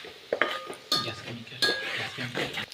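A spoon stirs curry leaves and spices in a pan for dhaba-style village khichdi, giving a few sharp clinks and scrapes against the metal with short pauses between strokes, close and moderately loud.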